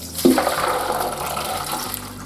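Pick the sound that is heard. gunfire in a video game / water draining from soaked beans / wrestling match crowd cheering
water draining from soaked beans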